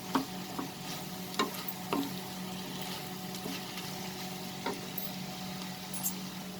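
Potatoes and fenugreek leaves sauté over a high flame with a constant low sizzle and occasional light scrapes and taps of a spoon in the pan, no speech.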